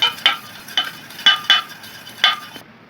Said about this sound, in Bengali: শুকনো উপকরণগুলো আমি অল্প অল্প করে এখানে মিশিয়ে দিচ্ছি।